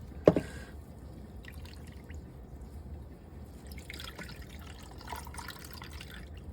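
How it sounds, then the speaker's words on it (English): A sharp clink, then a soft trickle and splash of lemonade poured over pineapple cubes, fairly close and quiet. "I'm just gonna pour some of this over my pineapple cubes."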